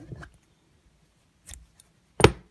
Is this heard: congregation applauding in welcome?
no